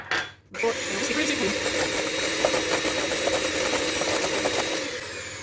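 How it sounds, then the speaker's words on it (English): Egg yolks being whisked in a bowl until frothy, a steady continuous whirring that runs loud and close for about five seconds after a brief start, with no talking. "your egg yolks go into a bowl, and we need to whisk them just until they are frothy"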